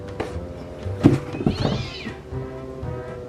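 A cat meows close by, a short sequence of rising and falling cries over a rumbling indoor background, with a soft knock just before.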